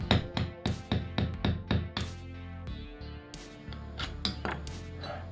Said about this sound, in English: I was able to split it in half using a screwdriver and a hammer.